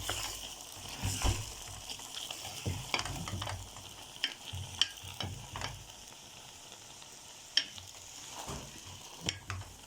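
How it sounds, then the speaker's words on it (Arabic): Spaghetti being stirred into a pan of simmered meat sauce, giving soft scraping and clinking of utensil against pan over a low, steady sizzle, close and fairly quiet. "هنديها بقى تقليبه حلوه كده"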